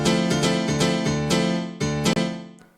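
Dry classic house piano chords with the reverb switched off, struck in short rhythmic stabs that cut off cleanly, close and loud with no voices.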